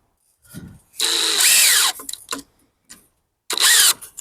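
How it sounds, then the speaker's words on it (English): A power drill drives the last screw into a wooden soil sifter frame: a short burst, a longer loud whine that winds down in pitch, then a second burst, with small clicks and handling noises between. "we'll drive in our very last screw here"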